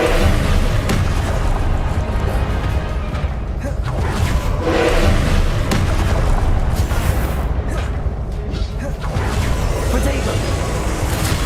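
Confringo blasting-spell explosions in Hogwarts Legacy, loud booming bursts layered over constant in-game combat noise with a voice casting spells throughout.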